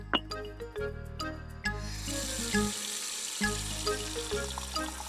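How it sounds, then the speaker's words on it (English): Cold water runs from a kitchen tap into a bowl in an animated children's show, a steady rushing stream that starts about two seconds in and continues under gentle musical tones. "She filled a bowl with cold water."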